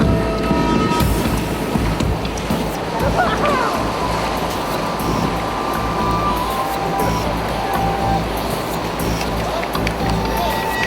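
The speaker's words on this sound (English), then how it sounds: "this is the Atlantic Ocean" Atlantic Ocean surf breaking on the shore, a continuous loud wash of waves with broad rushing noise that stays steady throughout, with no talk over it.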